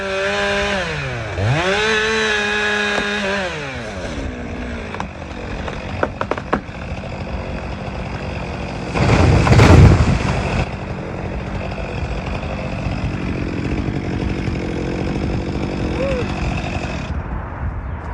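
A chainsaw works through a big white oak tree, its engine loud and close, revving up and down at first and then holding a steady cutting drone, with one louder burst midway and short knocks.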